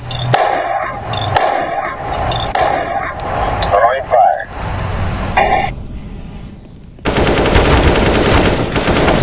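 Gunfire in Counter-Strike: Global Offensive, with sharp bursts and single shots in the first half, a quieter stretch, then loud sustained rapid fire near the end.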